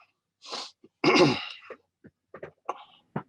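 A short throat sound, then one loud, harsh cough, followed by a few small throaty noises and breaths.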